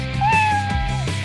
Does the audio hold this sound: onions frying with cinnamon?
no